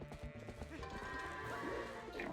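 Goat bleating in Twilight Princess HD, over busy game music and hoof-like clatter; a couple of short wavering bleats rise near the end, fairly faint against the mix.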